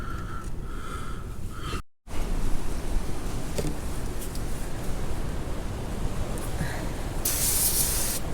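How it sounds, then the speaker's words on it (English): Brake cleaner sprays in long, steady, close hissing bursts onto the brakes of a 2000 Ford F350 truck, broken by one brief cutoff. "he's spraying brake cleaner"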